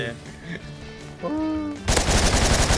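Rapid automatic gunfire from guns in the Roblox shooter Hypershot bursts in loud and close during the last second, after a stretch of tonal game sounds and voices.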